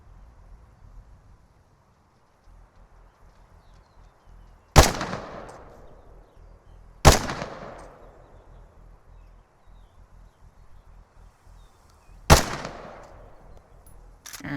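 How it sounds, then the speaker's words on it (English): Three loud, sharp gunshots from a modded firearm firing from a closed bolt in a video game, spaced a few seconds apart, each with a long decaying echo over quiet background. "we are about to see it fire in closed bolt"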